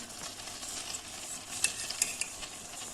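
Pepper paste simmers in a pot while a spoon stirs it. Quiet bubbling and soft sizzle sit under a few small clicks and scrapes of the utensil.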